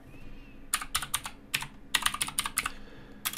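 Someone types on a computer keyboard, close and clear, in quick irregular bursts of clicking keystrokes separated by short pauses, with no one talking.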